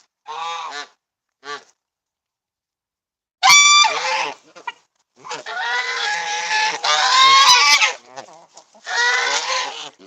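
Geese in a yard honking loudly and near in irregular bursts, some short single calls and some long overlapping squawking runs separated by silent gaps.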